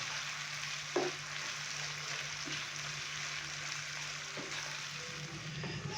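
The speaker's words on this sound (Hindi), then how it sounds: "मीडियम से लो फ्लेम पे चिकन को तकरीबन 2 से 3 मिनट के लिए हल्का सा फ्राई कर लिया है।" Chicken with black pepper and spices frying in a pan over a medium to low flame, a soft, steady sizzle with a few faint clinks of stirring, quiet and close.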